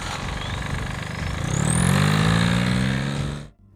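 A diesel engine runs close and loud with a rough, vibrating rumble that swells in the middle, then cuts off abruptly near the end.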